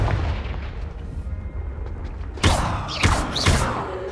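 A fire spell blast cast in the Hogwarts Legacy video game: after a stretch of low rumbling background, a sharp loud burst erupts, followed by two more crackling flare-ups, close and bold, with no talk.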